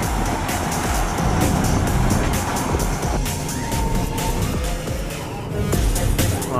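A Mercedes GL 63 AMG SUV accelerates hard out of a corner on a race track. Its loud, continuous engine roar climbs in pitch partway through and stays strong throughout.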